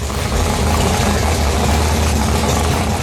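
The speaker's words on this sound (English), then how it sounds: "Every engine lover knows that sweet sound of an engine that is ready to race." A race car engine idles, ready to race, with a loud, steady rumble that is broad and noisy and holds level throughout with no revving or voices.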